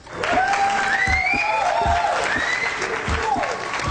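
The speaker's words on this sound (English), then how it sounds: "Let's get a round of applause if we could, if we have that soundbite loaded" A canned applause soundbite plays on a radio show: dense clapping and crowd cheering with whistles, loud and steady throughout with no break, and a voice talks underneath.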